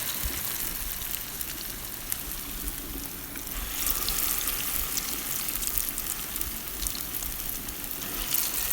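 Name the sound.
akara bean fritters frying in hot oil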